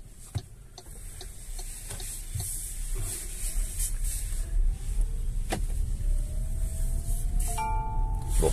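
Seatbelt warning chime in an MG ZS EV electric car, a steady series of ticking chime tones repeating inside the cabin over low road and car hum, close and clear.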